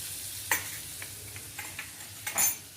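Mustard seeds sizzling in melted butter in a pan, a soft steady frying hiss with a few sharp clinks and light scrapes from a utensil, close and quiet with no voices.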